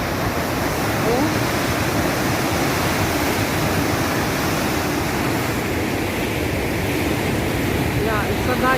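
Huka Falls roars as a steady, dense broadband rush of water that stays loud and constant throughout, with no clear breaks or changes.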